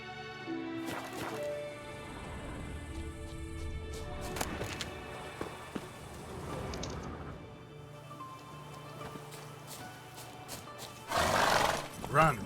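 Roach, the horse in The Witcher 3, gallops with clip-clop hoofbeats and lets out a neigh, set among game music and sound effects, with a voice talking over parts of it and a louder burst near the end.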